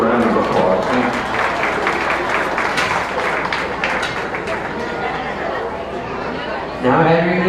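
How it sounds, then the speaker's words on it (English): An arena crowd at a county beef show applauds young cattle exhibitors, steady clapping mixed with chatter filling the ring for several seconds before a voice comes in at the end. "Let's give these young exhibitors a round of applause."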